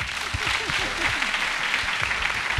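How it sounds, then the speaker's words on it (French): Studio audience applauding a guest on ShowTime, an RTI 1 television show: dense, steady clapping throughout, with a voice audible over it. "Il nous a fait du bien, il faut l'applaudir."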